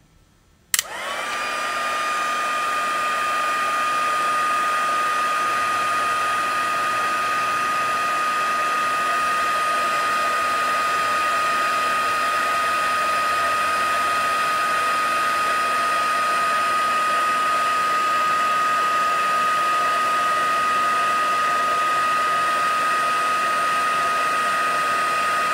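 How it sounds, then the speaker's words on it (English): A heat tool for embossing starts with a click and then blows hot air in a loud, steady whooshing drone that runs unbroken for the rest of the clip, close by and with no voices. "Okay, now the heat tool."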